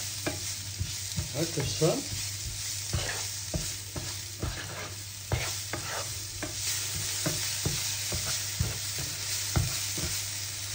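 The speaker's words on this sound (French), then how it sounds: "Je fais suer mes oignons, c'est-à-dire on les fait juste blondir" Onions sweating in a pan for a chicken and mushroom cream dish, a soft continuous sizzle broken by frequent spoon scrapes and taps, with a few quiet spoken words.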